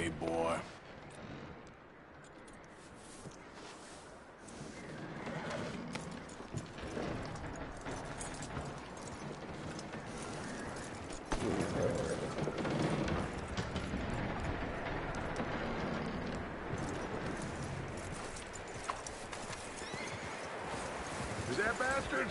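Horse hooves clop steadily in Red Dead Redemption 2, with an occasional neigh, set within a dense, continuous wash of game sound and voices that grows louder about halfway through.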